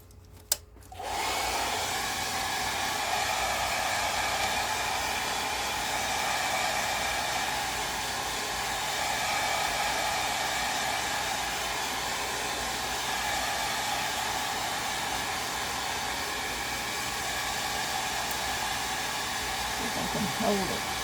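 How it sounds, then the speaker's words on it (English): A handheld dryer blows steadily on a hand-painted Easter egg, clicking on near the start and running loud and close as a continuous whooshing drone for about twenty seconds. "Now I'm going to dry this real quick. So you're going to hear my dryer."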